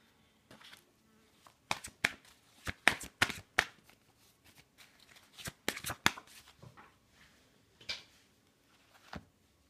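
Tarot cards are shuffled by hand in short, crisp bursts of riffling and flicking, close and clear, with quiet pauses between the flurries and no voice.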